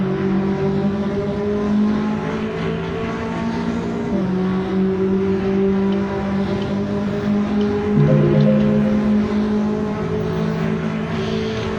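Onboard engine of a GT4 race car in a sim-racing championship round at Misano World Circuit, a steady loud droning whine held at high revs with small pitch shifts as gears change, continuous with no talk over it.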